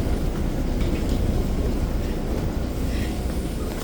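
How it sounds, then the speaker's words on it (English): A TTC Line 2 subway train rumbles at Kipling station, a loud, steady low roar that fills the platform for several seconds with no voices. "Mama, can we watch that train?"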